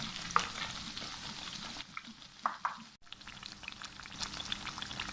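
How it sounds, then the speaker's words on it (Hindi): Naan pakora frying in hot oil with a continuous bubbling sizzle and occasional soft stirring and clinks. It stays fairly quiet and briefly drops out in the middle. "1 मिनट इस साइड फ्राई कर लेते हैं"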